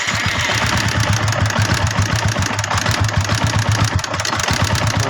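Yamaha Sniper 150 motorcycle engine with a loud valve ticking, low on oil, idling steadily up close, its rapid even firing pulses and metallic clatter continuing throughout with no talk.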